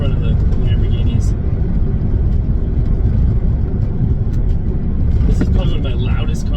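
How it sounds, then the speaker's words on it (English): Modified exhaust of a 1998 Lotus Esprit V8 twin turbo, a loud, continuous low engine drone heard from inside the car while driving, steady throughout. "This is probably one of my loudest cars too. It's got a modified exhaust as well."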